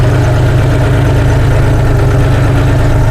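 A John Deere 5039D tractor driving in load 4 gear gives a loud, close, steady diesel engine drone with a strong low throbbing pulse that holds constant throughout.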